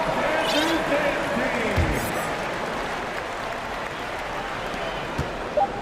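Simulated arena crowd claps and cheers in a basketball video game, a broad steady roar of applause with an announcer talking over it and occasional ball bounces and squeaks.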